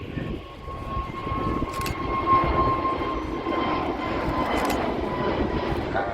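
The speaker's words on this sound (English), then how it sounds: "Just taken off. An Airbus A320-200 Neo belonging to British Airways." A British Airways Airbus A320-200 Neo takes off from Manchester Airport, its engines a loud, steady roar with a thin whine riding over it, sustained and close.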